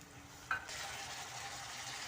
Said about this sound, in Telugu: ఇప్పుడు ఇందులో బీరకాయ ముక్కలు, పచ్చి శనగపప్పు,